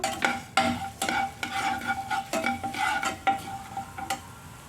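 Fenugreek, cumin and coriander seeds fry in a tablespoon of hot oil with repeated scraping and stirring strokes of a spoon against the pan, a light sizzle running underneath.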